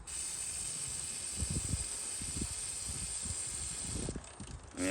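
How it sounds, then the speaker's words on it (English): Aerosol lubricant spraying onto a Honda CRF 80 motorcycle chain, a steady close hiss held for about four seconds with soft low knocks and rattles of the chain being turned underneath. "Now really quickly we're going to clean the chain, at least lube it a little bit."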